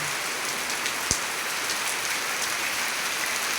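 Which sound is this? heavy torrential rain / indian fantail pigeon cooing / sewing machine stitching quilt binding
heavy torrential rain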